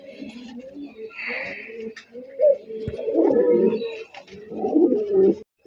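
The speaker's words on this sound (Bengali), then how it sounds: "বন্ধুরা এখানে এক জোড়া গররা কবুতর আছে, এটা হচ্ছে সিলভার গররা" A pair of Gorra pigeons, silver and black, give close, rolling coos in several uneven bursts, with brief gaps and some faint background clatter between calls.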